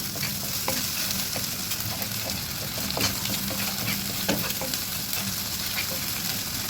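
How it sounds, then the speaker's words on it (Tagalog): Bitter gourd leaves sautéing with canned sardines in a pan, a loud continuous close sizzle and crackle with scattered scraping stir sounds throughout, no talking. "Ayan, so naigisa-gisa na natin."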